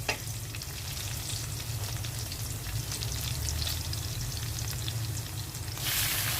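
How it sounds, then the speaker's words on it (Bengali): Onion, garlic and green chilli fry in a pan with a steady, moderately quiet sizzle and occasional light stirring, brightening into a sharper hiss near the end; no speech. "পেঁয়াজ রসুন আর কাঁচামরিচ ভেজে নিচ্ছি।"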